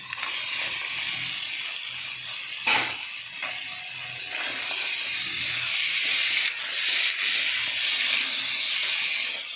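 Crab tipped into a hot pan with chillies sizzles loudly, a steady bright hiss and crackle of frying that holds throughout with occasional sharper spits.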